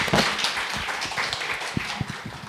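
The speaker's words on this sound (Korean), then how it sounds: "먼저 한번 박수 한번 부탁드립니다." Applause from an audience at a corporate leadership event, a dense, steady patter of many hands clapping together for a couple of seconds with no talk over it.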